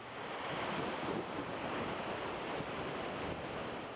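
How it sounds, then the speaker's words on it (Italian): Rushing river water at Valsagna, where the current drops over falls and pours forcefully into the Brenta, makes a steady, dense broadband roar that holds constant for the whole stretch, with no voices. "A Valsagna invece i salti dell'acqua sono spettacolari e inquietanti prima che la corrente finisca nel Brenta con forza esplosiva."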